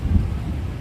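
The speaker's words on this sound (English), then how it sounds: "Is it even thundering?" Thunder rumbles as a deep, steady roll under rain and wind during a live outdoor visit to Animal Kingdom, loud and close with no talking over it.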